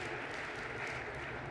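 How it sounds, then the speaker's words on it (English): Faint, steady applause from an audience at a high school state leadership conference delegate session, continuous and distant throughout the short stretch. "A round of applause for Jamie Dam."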